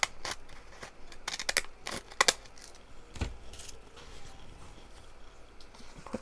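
Scissors cutting packaging, a handful of distinct crisp snips clustered near the start and a few quieter cuts later, close and alone against faint rustling.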